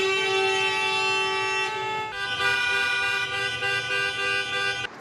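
Several car horns toot in long sustained blasts, one overlapping another, loud and close amid street traffic noise in France.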